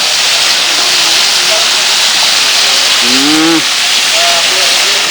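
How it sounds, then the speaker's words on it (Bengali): Five prawns frying in Bashundhara soybean oil on Saint Martin's Island, a loud, steady, close sizzle and hiss throughout, with brief voice fragments faintly heard underneath. "এই পাঁচ পিস চিংড়ি এখানে ফ্রাই হচ্ছে"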